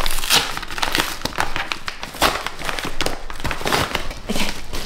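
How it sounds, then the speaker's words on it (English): Hands rip and tear open an Amazon book package, giving repeated sharp crinkling and tearing bursts of paper and plastic in an uneven rhythm, close and fairly loud, with no talking. "I might just rip this."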